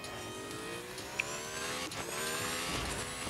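Racing car engine in the Real Racing 3 mobile game, a steady high-pitched revving drone with rising gear-shift sweeps across two races' worth of straight-line acceleration, continuous and close with no talk.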